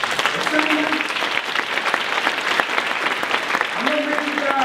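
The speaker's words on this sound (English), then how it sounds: "So let's give a round of applause for the distinguished assemblyman." Audience applause for a distinguished assemblyman at a California coalition education event, a dense steady clapping that fills the room throughout at even loudness.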